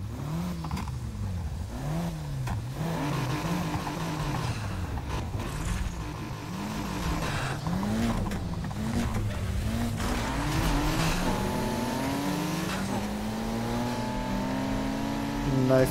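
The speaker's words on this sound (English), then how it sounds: "Nice Mitsubishi Eclipse." A Mitsubishi Eclipse races in Need for Speed Heat, its engine rising and falling in repeated revving sweeps with tire squeal, then climbing into a sustained high-pitched acceleration, loud and continuous throughout.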